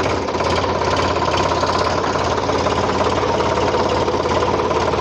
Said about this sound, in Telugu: బండి ఎట్లా దున్నుతుందో ఒకసారి చూద్దాం అన్న